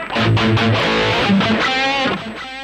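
Electric guitar through a Rocktron Prophesy preamp on its Mega Drive distortion, an American-voiced high-gain tone, plays a short riff of chugging notes and chords that rings out, loud and alone.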